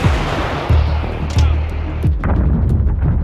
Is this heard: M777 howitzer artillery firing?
yes